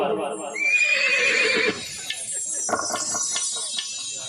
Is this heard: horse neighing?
yes